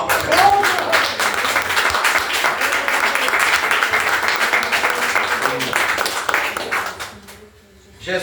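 Church congregation applauding at a Brazilian evangelical prayer service, a dense sustained clapping filling the room for several seconds, with some voices mixed in, before it thins out toward the end.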